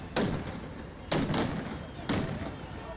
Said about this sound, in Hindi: उन्होंने एक बार फिर राजधानी तिराना में संसद की इमारत पर पटाखे और पेट्रोल बमों से